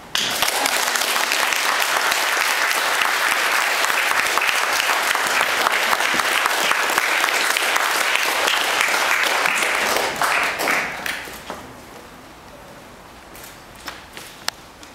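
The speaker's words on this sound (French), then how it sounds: "vous pouvez les applaudir" Sustained applause from wedding guests in a Paris town hall right after the couple is declared married, loud and dense for about ten seconds before fading to scattered claps.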